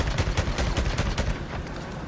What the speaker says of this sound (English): Although with him, gunfire is almost ineffective, as you'll see here.